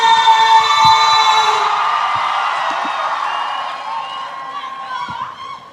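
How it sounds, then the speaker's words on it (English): Audience at a Junior Monarch finals event cheers and whoops over sustained crowd noise, loud and close at first, then slowly fading as voices trail off. "let's give a huge round of applause"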